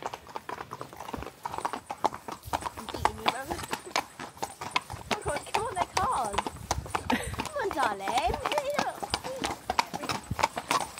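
A pony's hooves clip-clop in a quick, steady rhythm on a hard surface, continuing throughout while people talk and laugh over them.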